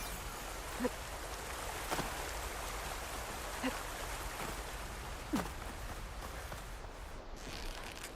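Steady broadband rushing water of a big waterfall in the video game Horizon Forbidden West, a constant roar throughout with a few brief louder clicks from the game over it, no talk.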